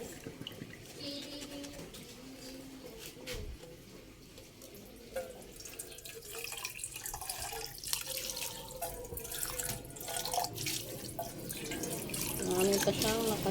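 Water from cooked vegetables pours and trickles through a strainer into a sink. It makes a continuous splashing flow that grows louder toward the end, with faint kitchen clatter around it.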